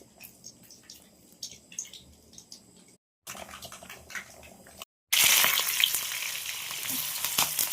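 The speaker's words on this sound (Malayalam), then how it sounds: "നല്ല എരിവുള്ള ഇടിച്ചക്ക കടുകിട്ട് വറവിടാൻ പോവാണേ." Mustard seeds hit hot oil for tempering a spicy tender jackfruit and green gram thoran, first with quiet scattered crackles, then a loud steady sizzle that swells near the end, with no talking.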